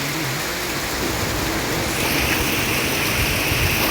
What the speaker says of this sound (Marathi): पाऊस पडतो मित्रांनो